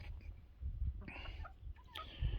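Chickens cluck softly in the distance with a few higher squawks, over low rumbling background noise.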